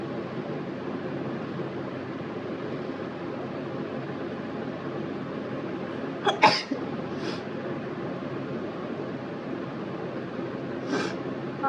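During a sneeze challenge at home, a couple of sharp sneeze-like bursts break through steady background hiss around the middle, followed by a fainter one near the end.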